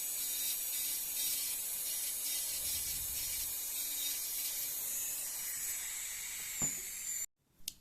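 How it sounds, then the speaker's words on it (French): An electric nail file drill sands natural fingernails, giving a steady high-pitched whine with a faint grinding texture, close and continuous before it cuts off abruptly near the end. "je mets ma ponceuse en mode reverse et je fais l'autre côté"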